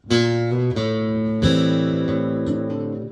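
Slow guitar riff from a song, a few sustained notes changing one at a time with ringing overtones, played alone and close.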